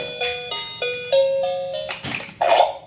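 A coin-operated water vending machine plays a short electronic jingle of a few bright beeping tones in sequence, followed by splashy water-like noise at the end.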